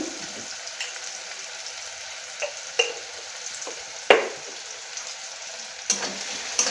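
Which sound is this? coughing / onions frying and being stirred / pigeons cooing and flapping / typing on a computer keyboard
onions frying and being stirred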